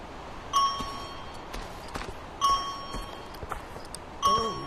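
Three bright metallic bell rings from a bell in the VR smithing game BlackForge, each a sharp ding with a ringing tone that decays over about a second, spaced roughly two seconds apart.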